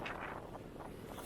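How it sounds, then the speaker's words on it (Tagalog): Strong gusty wind buffets the microphone in low rumbling surges outdoors near S Maison mall and Conrad Hotel in Pasay, Philippines, fairly quiet overall with no voices present. "Lakas ang hangin."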